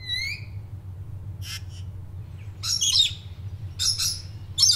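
A parrot gives a handful of sharp, scratchy chirping calls in brief separate bursts with quiet gaps between, over a faint low hum.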